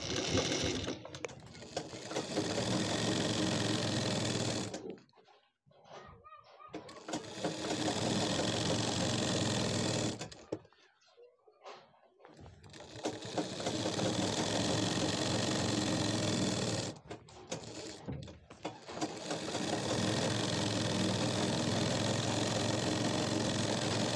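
A sewing machine stitches a narrow neck strip for a kurti, its fast, steady whirring motor sounding up close in three long runs, each followed by a short pause.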